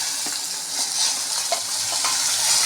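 Steamed green beans tossed into hot oil with mustard seeds, cumin, urad dal and onion for a Tamil beans dry curry, a bright continuous sizzle with soft scraping stirs and occasional pops.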